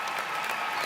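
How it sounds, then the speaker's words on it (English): Graduation ceremony audience at the University of Southern Indiana applauding steadily, a dense even wash of many hands clapping together for under a second with no break. "Let's give them another round of applause, everybody."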